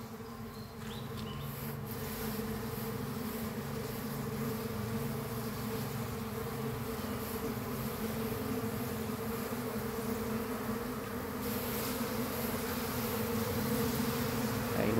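A honeybee swarm flies into a hive box outdoors, a dense, steady buzzing hum of many bees that stays loud and close throughout, growing slightly toward the end, with no voices.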